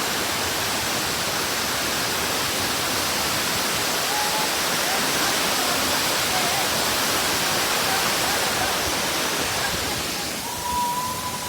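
Steady, loud rush of a waterfall at a crowded tourist falls, a dense continuous roar filling the whole clip, easing slightly near the end.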